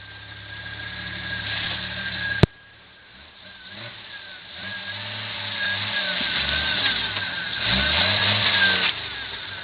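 A car engine idles, then revs up gradually and holds a strained, rising drone while the wheels are turned, after a sharp click near the start; steady and moderately loud, with no talking.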